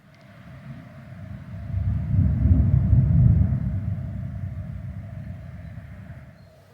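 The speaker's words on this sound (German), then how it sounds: "Es donnert ganz heftig in westlicher Richtung von hier aus" Heavy thunder rolls in from the west, a deep low rumble that swells over several seconds and slowly fades, heard from a bench behind a village sports clubhouse in Denmark during a bike trip.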